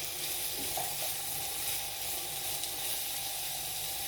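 Chopped large onion frying in a pan for samosa filling, a steady dense sizzle that holds evenly throughout, with a couple of faint stirring knocks early on and no talk.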